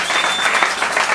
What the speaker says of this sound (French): Et que l'Église reçoive cette parole par de fortes acclamations.